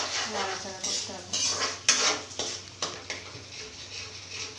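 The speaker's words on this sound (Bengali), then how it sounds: "এটাকে খানিকক্ষণ নাড়াচাড়া করতে হবে ভালো করে" Kashmiri paneer curry being stirred in a pan, with a rhythmic series of spatula clanks and scrapes against metal over a soft sizzle, close and clear.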